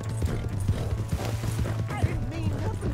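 Hooves of a horse in Red Dead Redemption 2 clopping in a steady rapid rhythm at close range, running continuously under a low droning game score and ambient sound.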